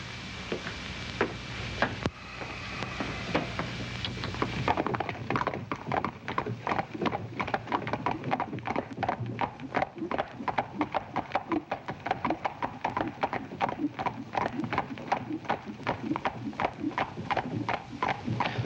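Horses' hooves clip-clop steadily on a street, a dense run of sharp, close knocks continuing for many seconds after a brief lead-in of other sound.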